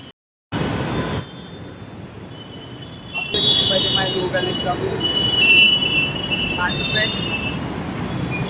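A Mumbai metro train rumbles loudly and steadily at close range, with a rising whine and squealing tones as it runs, after a brief silent start. People talk over it.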